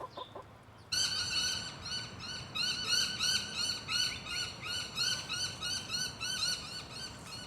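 Chickens clucking in a steady, rapid run of squawky calls, fairly close, with no talking.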